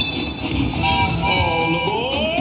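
A train sound effect with a horn-like toot and rolling rail noise plays in a slot machine game, loud and steady throughout the short stretch, with no speech over it.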